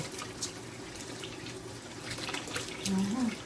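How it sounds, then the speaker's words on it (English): Running water from a tap while rice is washed by hand in a pot, a steady close rushing and splashing throughout, with a voice murmuring faintly underneath. "Wash the rice. Wash it."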